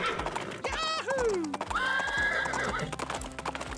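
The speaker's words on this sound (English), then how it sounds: "Fast riding produces a galloping sound." A Radio Flyer Blaze interactive spring horse toy plays a recorded horse whinny followed by rapid clip-clop galloping hoofbeats, loud and close, with the neigh rising and falling over a steady rhythmic gallop.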